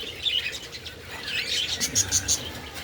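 Parakeets chirp inside a breeding cage, several short high tweets scattered through the passage with a brighter run of calls near the end, fairly close over a low room murmur.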